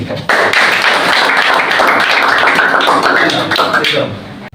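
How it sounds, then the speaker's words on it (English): Students in an English speaking practice class break into steady, loud applause for a classmate, a dense burst of many hands clapping for several seconds before tapering off at the end. "Everybody claps for him."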